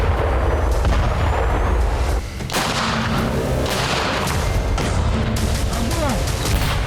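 Heavy artillery shelling in Donetsk at night comes as dense, continuous rumbling booms and thuds, loud and overlapping, with no clear separate shots, under a broadcast voice.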